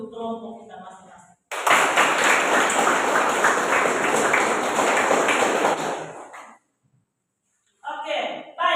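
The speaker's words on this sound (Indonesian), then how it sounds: "Coba kita beri tepuk tangan dulu untuk kelompok kita masing-masing." A classroom of students claps for their groups at SMK Widya Bhakti Ruteng. A burst of steady, close applause lasts about five seconds and stops abruptly. A teacher's voice is heard before and after it.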